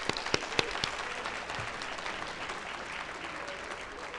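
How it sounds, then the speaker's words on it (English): Audience at a school district retirement banquet applauds steadily, a few sharp claps standing out at the start before the clapping settles into an even, sustained patter. "big round of applause."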